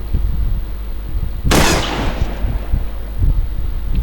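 A single sharp gunshot in the video game Delta Force bursts out and rings off briefly, standing out over a constant low rumble and soft background noise.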